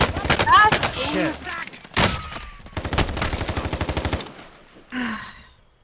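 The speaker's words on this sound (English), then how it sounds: "They were shooting at me too" Rapid machine-gun bursts ring out in a Call of Duty Warzone match, with several rattling volleys of varying length close by, mixed with players shouting over the gunfire.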